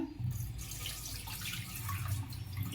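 Water pours and splashes steadily as it drains from washed lentils and rice, a continuous rushing trickle that stays close and even throughout.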